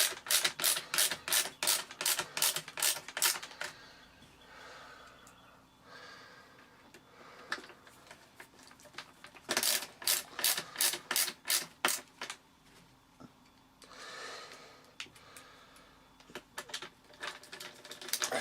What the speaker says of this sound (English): I'll pop all the screws back in.